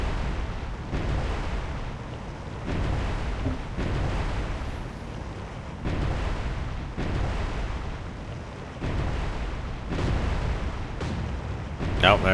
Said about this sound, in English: Oh, there you go, he's opening fire.